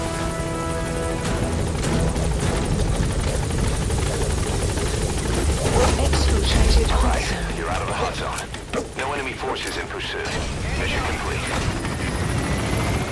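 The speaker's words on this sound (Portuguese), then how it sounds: "Não é que o helicóptero não vai aguentar muito tempo" Helicopter hovering in Metal Gear Solid V: The Phantom Pain, a steady loud rotor drone held throughout, with crashes and booms breaking through and voices now and then.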